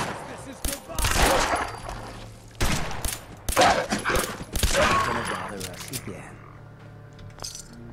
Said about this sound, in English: I heard shooting.